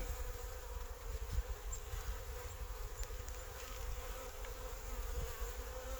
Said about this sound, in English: It's a really big bee.